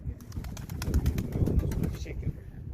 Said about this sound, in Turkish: Bakın arkadaşlar akşam olduğu için kuşlar yuvasına geri dönüyor.